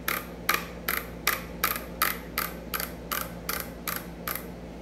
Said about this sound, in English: You need to take the fore-end cap off right here.